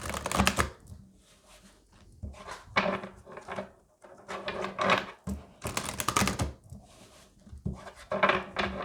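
Oracle cards being shuffled by hand in bursts of riffling and slapping, close and crisp, with short pauses between the rounds and no talk.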